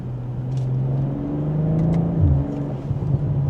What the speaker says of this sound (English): you get some of those gurgles in that exhaust